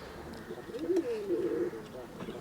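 A Madrasi pigeon coos nearby in soft daylight, one low rolling coo phrase rising and falling for about a second, with faint background noise around it.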